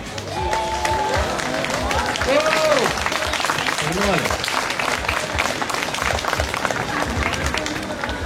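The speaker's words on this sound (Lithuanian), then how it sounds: "Plojimai!" An audience bursts into sustained applause and clapping for a platform diving competitor, with crowd noise and a few voices carrying through the steady, dense wash of hands.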